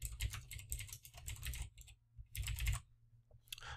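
A computer keyboard is tapped in quick clusters of keystrokes with short pauses between, close and crisp, as a name is typed in; no voices.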